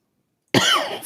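One sharp close-up cough bursts out of silence and trails off into a rough exhale.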